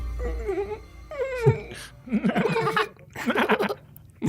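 A person's voice imitates a dog's stuttering whine, producing wavering, broken whimpers and moaning cries in short choppy bursts, close and moderately loud.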